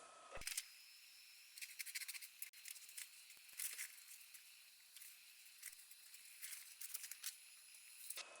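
Quiet, crisp snips and rustles of scissors cutting paper, in irregular bursts with short pauses between them.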